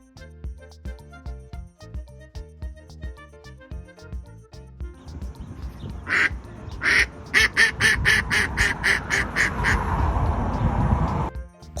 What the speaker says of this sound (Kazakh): Үйректің балапаны.